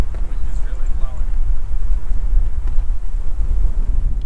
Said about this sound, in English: wind is really blowing.